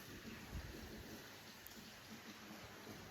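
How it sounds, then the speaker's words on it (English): Rainfall with a low rumble of thunder, a soft continuous wash of rain that stays even and fairly quiet throughout, with no voices over it. "Yes, it can become rainy quite quickly"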